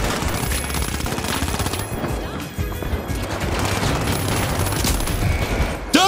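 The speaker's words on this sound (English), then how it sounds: "is that a freaking grenade launcher?" Explosive grenade launcher blasts mixed with rapid automatic gunfire in the video game The Finals, a dense, loud barrage of shots and crashes that continues without a break and with no talking.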